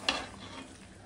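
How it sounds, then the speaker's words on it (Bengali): Raw mango and sugar being stirred in a pan: a single sharp scrape of the spoon, then a soft, steady sizzling hiss, close and moderately loud, with no talking. "এখন এটা ভালো করে মিশিয়ে দেবো নেড়ে চেড়ে।"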